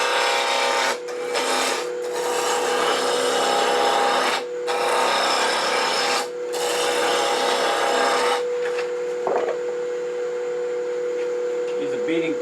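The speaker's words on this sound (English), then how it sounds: "Use a beading parting tool for making a tenon." Wood being turned on a lathe as a beading parting tool cuts a tenon on a carved wooden owl blank, a steady close rasping scrape with a few brief pauses, then the cutting stops and the spinning lathe carries on more quietly.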